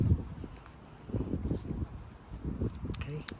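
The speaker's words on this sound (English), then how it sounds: "we're just going to sand down the scratch because there's like a burr on it" Kovacs 1500 sandpaper rubs back and forth over a keyed scratch in a car's clear coat, a soft rhythmic rasp of short strokes, fairly quiet and close, with faint background hum.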